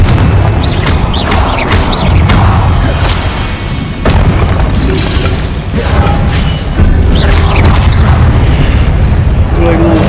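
Booming fire-spell blasts from Confringo in Hogwarts Legacy, loud and dense, with repeated explosive bursts across the stretch over a steady game background, a voice talking over parts.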